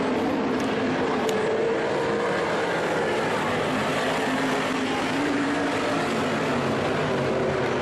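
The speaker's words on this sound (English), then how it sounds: "And Heat 2 racing action for your 360 Sportsman." 360 Sportsman race cars racing at Skagit Speedway, a loud continuous engine roar that stays dense and steady throughout, with no clear breaks between passing cars.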